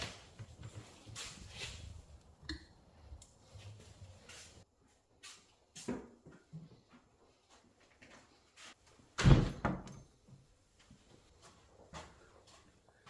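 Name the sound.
oven door opened to take out shock spring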